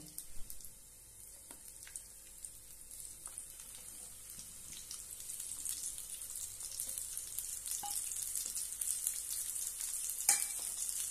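Eggplant pieces frying in oil tempered with mustard seeds and cumin, a steady broadband sizzle that slowly grows louder over the clip, with a few soft clinks of stirring and one sharper knock near the end, no voices.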